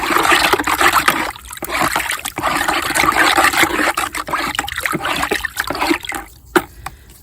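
Liquid pours into a container for compost treatment, a continuous splashing gush lasting several seconds before trailing off into a few drips.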